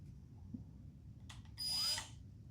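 A battery-powered grinder's electric motor spins up briefly, a high whirring whine rising after a short click and lasting about half a second, close and fairly loud against a quiet room.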